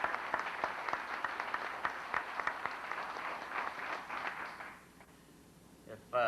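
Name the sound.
audience applauding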